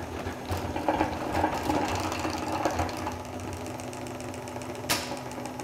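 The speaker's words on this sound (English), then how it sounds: "This is a centrifuge, so we're going to put in 3 frames all together and then spin it with a crank" Hand-cranked honey extractor centrifuge holding three frames spins with a rapid ratcheting, gear-like clatter and a steady hum, close and moderately loud, with a sharp knock near the end.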